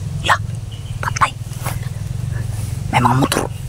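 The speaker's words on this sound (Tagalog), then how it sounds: "May mga motor." An engine drones steadily underneath throughout, fitting passing motorcycles, while voices talk over it in short bursts.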